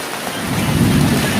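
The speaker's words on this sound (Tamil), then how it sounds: "மழை வர ஆரம்பிச்சிடுது" Rain begins to fall on an evening during the start of the rainy season, a dense, steady patter that swells louder over the moment, with a low rumble beneath and no talking.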